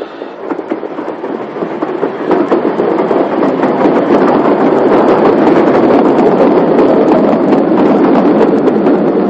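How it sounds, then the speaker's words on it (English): A steam locomotive in its old company livery hauls a regular service train, a loud rolling rumble with rhythmic wheel clatter building up and then holding steady throughout. "It was a regular service train"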